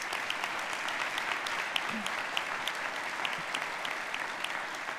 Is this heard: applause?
yes